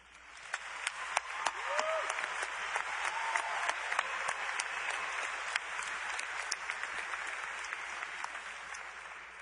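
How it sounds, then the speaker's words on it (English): Sustained applause from an audience at a 2013 North Kingstown High School graduation ceremony, steady, dense clapping over a fairly distant hall ambience, with a few sharper individual claps standing out near the front. "Please give a round of applause for the 3 people who have devoted themselves to this class."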